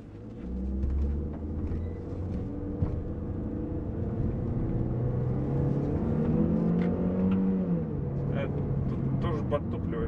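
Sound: Chevrolet Cruze engine accelerating in first gear, manual shift mode

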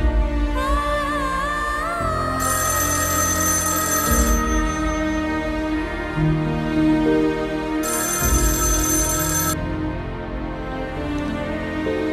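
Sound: telephone ringing

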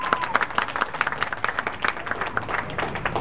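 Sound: crowd applauding at a bowling alley

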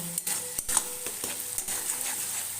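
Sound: sautéing spices on high flame for egg potato dal

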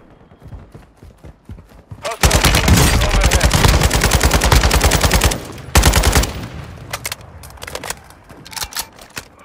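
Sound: Drake 7.62 rifle gunfire in video game Warzone 2.0

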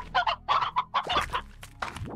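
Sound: chickens clucking in a video game

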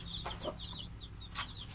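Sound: hen clucking

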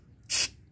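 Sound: spray cleaner sprayed into a catalytic converter

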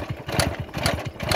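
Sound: Voskhod motorcycle engine running

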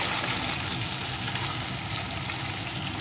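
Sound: taro (gathi kochu) frying in a pan

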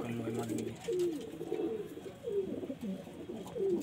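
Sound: pigeons cooing at a pigeon sale

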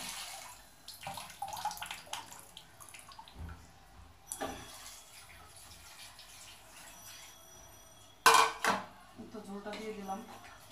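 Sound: water poured into a pot, dishes clattering

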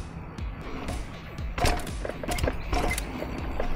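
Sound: Suntour 38 Durolux suspension fork rattling and clunking

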